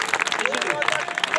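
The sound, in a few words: audience applause at a Hindi poetry gathering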